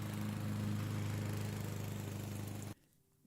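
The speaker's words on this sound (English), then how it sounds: "this is a lawnmower sound that we started with" Steady, loud drone of a lawn mower engine running with a constant low hum, cutting off abruptly near the end to near silence.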